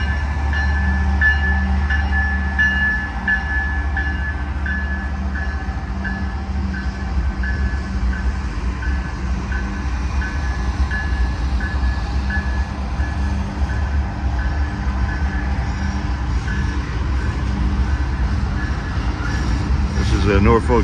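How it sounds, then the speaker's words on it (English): An eastbound Norfolk Southern manifest freight train rolls through Altoona, Pennsylvania on the Pittsburgh Line, a loud continuous rumble and rail squeal from nearby that holds steady throughout. "Norfolk Southern, Pittsburgh Line. We have a eastbound manifest."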